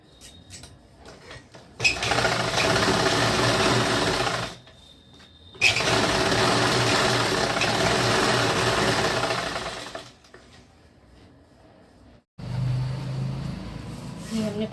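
A sewing machine stitches salwar fabric in bursts: two long whirring runs separated by a short pause, then a quieter stretch and a final lower-pitched run, close and steady with no speech.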